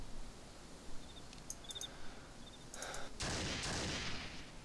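Distant gunshots in Arma 2 DayZ, a few faint scattered reports followed by a louder sustained burst near the end, over quiet outdoor ambience.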